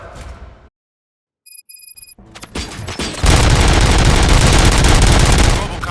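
Robots firing guns in the video game Robocop: Rogue City, opening with a muffled burst, then a silent gap with electronic tones and rising clatter, followed by loud sustained automatic gunfire that fills the scene.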